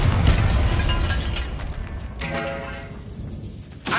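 A Bombarda blasting spell in Hogwarts Legacy goes off with a loud, close burst of rumbling blast noise that fades out, followed by a sharp crack near the end.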